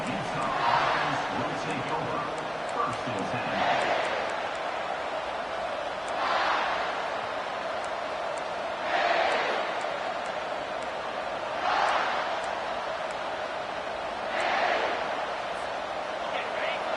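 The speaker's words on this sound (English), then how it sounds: "Listen to the crowd energy here in the early going." A stadium crowd in an American football video game roars steadily early in the game, swelling in repeated waves of cheering every few seconds over a constant background din.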